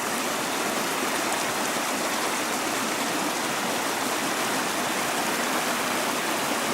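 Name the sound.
bubbling brook at Parfrey's Glen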